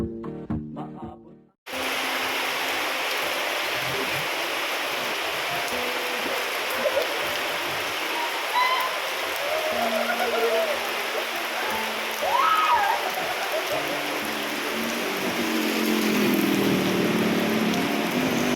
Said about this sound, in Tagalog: naabutan na kami ng malakas na ulan